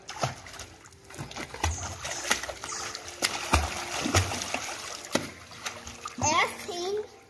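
Feet kicking and splashing water in a swimming pool during a swim lesson using a kickboard, irregular splashes mixed with children's voices and adult talk nearby.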